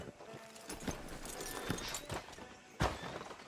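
Horse hooves clopping on a town street in Red Dead Redemption 2, several irregular thuds near and fairly clear over background ambience, with a sharper knock near the end.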